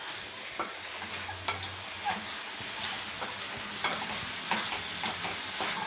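Chicken with a quarter teaspoon of turmeric fries in a pan for a bachelor-style chicken fry, a steady sizzle broken by repeated stirring scrapes and clinks, with no talk.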